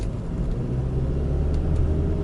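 A car with a manual gearbox idles and runs in first gear, giving a steady low engine rumble from inside the cabin, with no speech over it.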